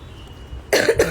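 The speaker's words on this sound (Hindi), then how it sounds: "मुझे तो खांसी आ रही है" Two quick, sharp coughs close to the microphone after a brief near-silence.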